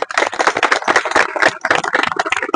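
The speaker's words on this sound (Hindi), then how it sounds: "कर लिए तो इसी के लिए सबके लिए तालियां है।" Site workers at a construction safety toolbox talk break into dense group applause, loud and continuous with one short dip midway.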